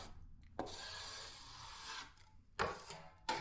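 A CO.ME Eclipse trowel spreads the final coat of drywall compound over external corners, giving a soft scraping rub that carries one long stroke and then a few short, sharper swipes, quiet and close with no talking.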